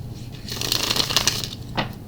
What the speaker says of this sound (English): these cards are a little stiff, and I do apologize for the lengthiness of my shuffling.